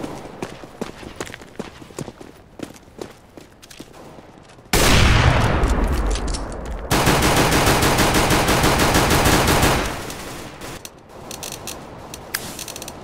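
Automatic weapon fire in the shooter game CS:GO: sparse clicks and taps first, then a loud sustained burst of rapid shots that drops back to scattered mechanical clicks.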